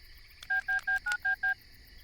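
A phone number is dialed on a telephone keypad: six short, evenly spaced touch-tone beeps in quick succession, clear and close over a quiet background.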